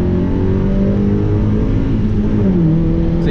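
A Mazda MX5 engine pulls hard on the road, a loud close drone with rising pitch as it accelerates through the gear, steady and alone without talk.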